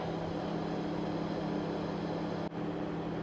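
A HydroVayne air compressor hums steadily at minimum RPM, producing a constant broadband drone with a low tonal whine and a brief dip near the end, with no voices over it.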